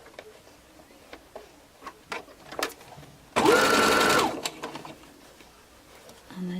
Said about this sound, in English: just literally keep on sewing round and round until you've added all 4 strips